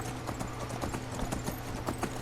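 Horse hooves clip-clop in a steady trotting rhythm while riding east in the Skyrim video game, with repeated evenly spaced thuds over a constant low game ambience.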